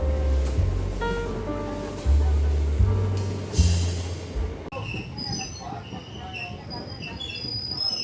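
Moving train in Tamil Nadu heard from inside a coach, a loud steady rumble and rattle of wheels with a squealing metallic tone, then a shift to a lighter, hissing run with tonal whines.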